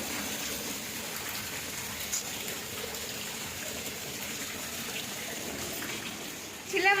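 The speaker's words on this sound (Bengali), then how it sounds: "এই দেখো জল ঢুকছে।" Rainwater pours into a room during a storm, a steady close rushing and gushing wash of flowing water that runs continuously, with a brief louder splash near the end.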